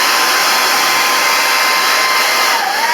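A hair dryer blows steadily and loudly at close range as it dries a washed vacuum cleaner filter, a constant whine and rush of air with no pauses.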